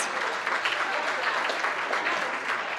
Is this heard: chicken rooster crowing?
no